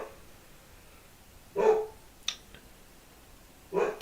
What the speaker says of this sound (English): Every time my dog hears somebody having a conversation outside, he flips out.